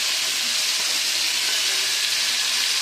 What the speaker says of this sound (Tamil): இந்த மாதிரி நம்ம வதக்கினாலும் இது தக்காளி நல்லா பச்சை வாடை போயிடும்